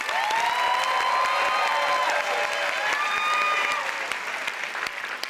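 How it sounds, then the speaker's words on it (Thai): A studio audience at a Thai singing contest claps for three contestants, steady, dense applause with some whistles and cheers over it, fading slightly toward the end. "ขอเสียงปรบมือให้กับนักสู้ฝันทั้ง 3 คนนี้เลยครับผม"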